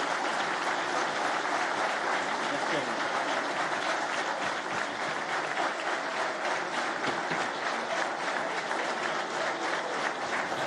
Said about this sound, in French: Et voilà pour ces applaudissements nourris après cette première intervention d'Emmanuel Macron